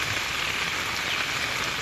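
Rain falls steadily on a rural farm where buffalo graze, a dense, even hiss of drops on surfaces with no voices.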